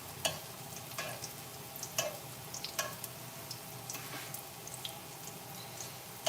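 Farina cakes cook in a hot cast iron skillet, giving a steady low sizzle broken by a few sharp clicks and scrapes of a utensil against the iron. Close and moderate, with no speech.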